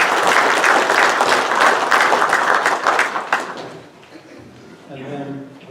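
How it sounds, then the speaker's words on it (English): A roomful of people at a co-op's annual meeting claps for its board members, loud and thick for about three seconds before fading away, with a voice speaking as it dies down. "we could give them a round of applause,"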